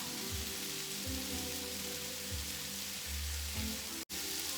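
Chilies sizzle loudly and continuously in a vegetable stir-fry pan, a dense crackling fry with a short break near the end.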